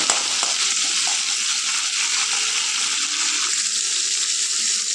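Onions, garlic and curry leaves fry in a pan for an onion chutney, making a close, loud and continuous sizzle that holds steady throughout with no talking.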